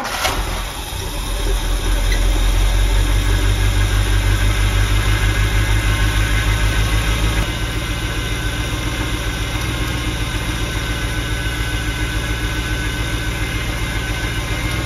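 A GM car engine idles steadily up close during alternator high-voltage troubleshooting, a low continuous rumble with a slight shift in tone partway through, no voices.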